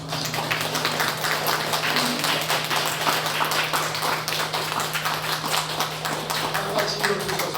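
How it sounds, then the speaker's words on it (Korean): A church congregation at a Sunday morning service claps steadily to welcome newcomers, a dense even patter of many hands over a low steady hum. "우리 샬롬교회 처음 나오신 분들을 위해서 환영의 박수를 한번 하겠습니다"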